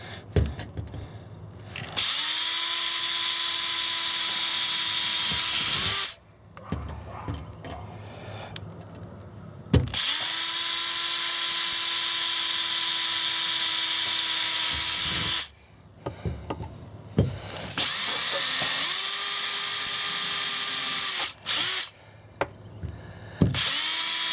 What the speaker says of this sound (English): Time to drill the holes in the door.